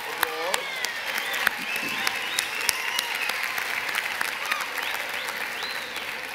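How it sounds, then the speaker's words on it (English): Audience applause at a 2017 USC Annenberg School for Communication commencement ceremony: a steady, full wash of many hands clapping throughout, with a few sharper claps standing out and faint voices and cheers mixed in. "If we could give him a round of applause."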